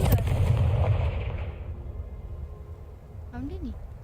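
The Confringo blasting spell from Hogwarts Legacy goes off as a loud fiery explosion that rumbles and slowly fades. A spoken voice comes through near the end.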